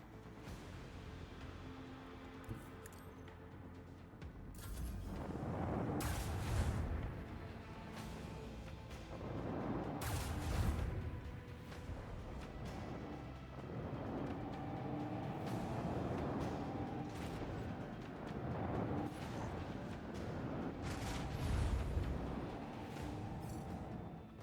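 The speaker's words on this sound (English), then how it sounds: "want to hear the macro cannons roar." Macro cannons fire in Warhammer 40,000: Rogue Trader as a series of deep booming blasts, several broad surges a few seconds apart over a continuous low rumble, with no voices.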